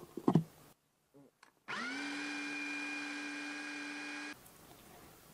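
A blender grinds bean filling with coconut milk for a coconut bánh mần dè, its motor whirring in a steady, loud, high hum for about three seconds after a few soft clicks, then stopping abruptly.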